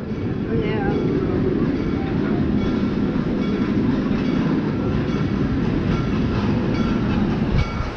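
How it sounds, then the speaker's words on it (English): Train running at the Busch Gardens theme park on a cold day, a continuous low rumbling rail roll that stays steady and fairly loud throughout. "And there's a train."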